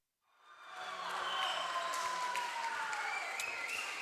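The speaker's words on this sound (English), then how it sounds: "The crowd is roaring once again, all tied up 1-1." Crowd roar at a high school volleyball match, a loud broad wash of cheering that swells in after a quiet start and holds steady, with a few sharp accents scattered through.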